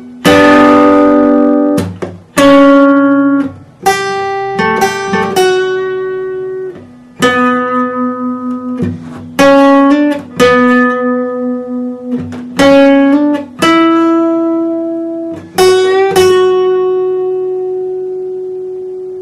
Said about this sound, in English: So the introduction played in real speed